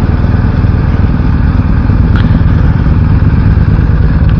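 A BMW R1250 GS Adventure boxer engine runs loud and steady and close, a dense continuous mechanical drone with no pauses.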